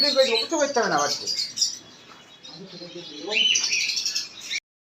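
Birds at a shop selling pet birds chirp and tweet in dense, overlapping calls close by, with a brief lull midway before the twittering returns.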